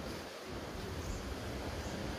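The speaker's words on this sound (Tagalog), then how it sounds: "bawal tayo bumaba kasi malakas yung alon" Strong sea waves at a white-sand beach make a constant loud, rushing roar mixed with wind buffeting, with no talk.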